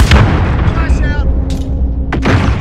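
A flashbang grenade goes off in Call of Duty: Modern Warfare, with sharp, loud blasts and bursts of gunfire over dense in-game combat noise.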